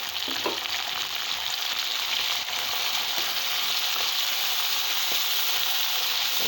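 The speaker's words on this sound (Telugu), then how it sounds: "టమోటా యాడ్ చేస్తున్నాను" Chopped tomato hits hot oil in a pan of chicken curry, giving a steady, loud, close sizzle with a few faint stirring clicks and no talking.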